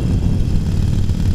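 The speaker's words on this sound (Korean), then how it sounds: "스로틀을 감았을 때 엔진이 천천히 빠바바바박 하면서 이제 터지는 힘이 RPM이 올라가면서 점점 올라가거든요." Harley-Davidson Iron 883 motorcycle engine revving from low RPM, a dense, steady low rumble that stays loud and continuous throughout, with no voices.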